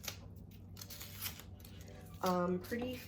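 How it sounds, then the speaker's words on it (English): Onions being cut with a knife, giving a few faint, scattered chopping taps at close range, followed by a short burst of a voice near the end. "I'm just gonna cut my onions"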